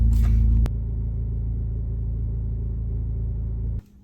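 Steady low engine rumble and road noise from inside a moving car, loud and continuous with no talking, cutting off abruptly near the end.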